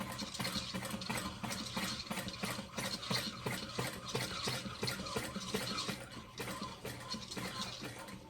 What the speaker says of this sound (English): I'm just going to really slowly top stitch that about 1/8 inch from the edge